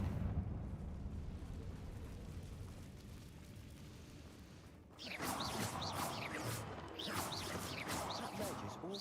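Confringo fire spell from Hogwarts Legacy bursting in a loud, crackling explosive rush that starts midway and keeps roaring and fizzing to the end, following a quieter low rumble of game ambience.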